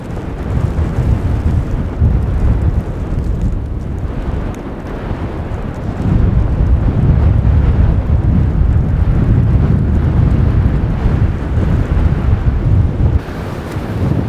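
Blizzard wind storming around a cabin, a loud, continuous roar of gusting wind with heavy low rumble that surges stronger midway and stays harsh throughout, with no talking.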